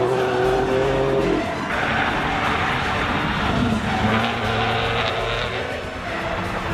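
A 2004 Opel Astra OPC hatchback with a 2-liter Ecotec engine drives past, its loud engine note rising and shifting pitch with some tire noise, steady and close throughout.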